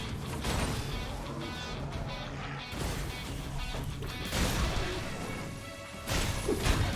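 Combat sounds from Dragon's Dogma 2 with a Mystic Spearhand fighting: dense, loud layered impacts, swishes and crashing hits running continuously, with heavier bursts near the middle and end.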